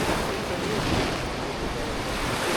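Rough sea water off Anglesey roars in a continuous broadband wash of waves heard from a small fishing boat, mixed with wind buffeting the microphone.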